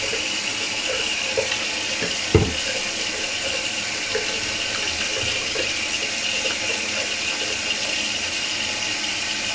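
Running water pouring steadily during a hair wash, a continuous close gush from a tap or shower with a brief knock partway through.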